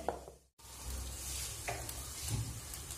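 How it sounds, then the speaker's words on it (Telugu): Fish fry cooks in a pan with a steady, moderate sizzle after a brief cut at the start, plus occasional soft pops and faint utensil sounds. "ఇప్పుడు వచ్చేసి మన ఫిష్ ఫ్రై ఆల్మోస్ట్ ఒక సైడ్ కుక్ అయి ఉంటుంది"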